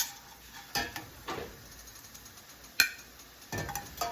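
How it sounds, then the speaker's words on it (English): Seared steak being scooped out of a pan for a steak bomb pizza, with a few scattered metallic scrapes and clinks of utensil on pan over a quiet kitchen background, and no talking. "we're going to scoop this out now"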